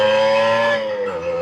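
A restored moped under hard braking lets out a loud, sustained tonal screech that holds steady, then dips in pitch and level as it fades near the end.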